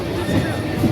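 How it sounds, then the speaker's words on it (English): A train pulls into Treviso station in Italy, its low, steady rumble filling the platform at close range while voices talk over it. "Yeah, our train is here."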